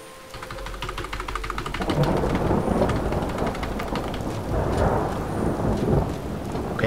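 Heavy thunderstorm in Skyrim: rain pours steadily, and a deep thunder rumble swells and keeps rolling at a loud, even level.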